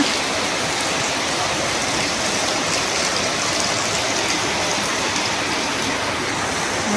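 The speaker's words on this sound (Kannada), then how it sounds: "ಮಳೆ ಅಂದ್ರೆ ಭಾಳ ಜೋರು ಐತಿ ನೋಡ್ರಿ ಈ ಮಳೆ ಸೌಂಡ್ ಒಳಗೆ ನಮ್ಮ ಮಾತಾಡೋದು ಏನು ಕೇಳೈತೆ ಇಲ್ಲ" Heavy rain pours down in a dense, steady roar of falling water, loud and unbroken, with no voices.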